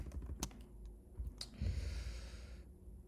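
Code comments are typed on a computer keyboard as a few scattered, sharp key clicks, quiet and close, with soft breathing and low background hum between the strokes.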